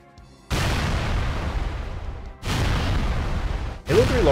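Large explosion from the Halo 3 video game, in a modded Mombasa map: a deep booming blast bursts out and rumbles on, then a second blast follows and a third begins, loud and close with no talk.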